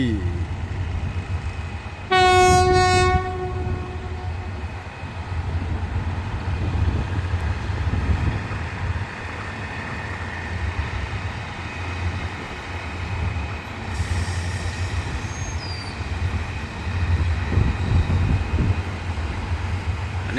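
Locomotive hauling empty railway cars in a yard, with a loud horn blast near the start followed by a steady rumble of wheels and engine throughout; a brief high screech appears later.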